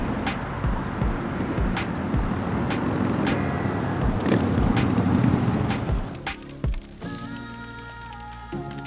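A car driving along a road gives a steady broadband rumble with road noise and faint passing sounds, fairly close, before fading into quieter ambience near the end.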